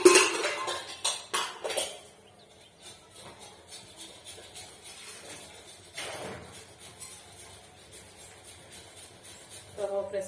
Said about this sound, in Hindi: तो प्रेशर कुकर के धुई देली न एबे पानी टिके दे देसी